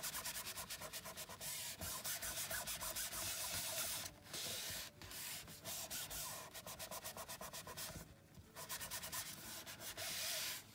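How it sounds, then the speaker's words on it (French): A tissue is rubbed back and forth to spread glue, rapid rhythmic scratchy rubbing strokes close up with brief pauses between bursts, no talking. "je prends mon mouchoir, je frotte pour répartir la colle un peu partout"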